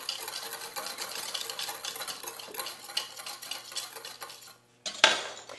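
A spice rub for smoked pulled pork being mixed in a bowl, with continuous quick scraping and clinking of a utensil against the bowl, a brief pause, then a sharp knock, and no talking.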